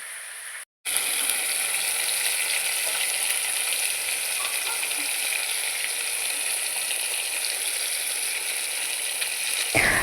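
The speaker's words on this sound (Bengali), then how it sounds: "তো এখানে দেখতে পাচ্ছ মাছগুলো ভালো করে কষে নিচ্ছি।" Fish pieces fry in hot oil and get stirred, giving a steady, dense sizzle close by that runs continuously after a brief silent gap at the start, with no voices.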